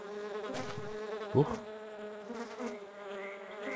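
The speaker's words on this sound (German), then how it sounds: "warum kann denn eine Fliege nicht schießen?" A fly buzzes in the video game The Plan, a continuous close, droning insect hum with shifting pitch, briefly interrupted by a short spoken exclamation.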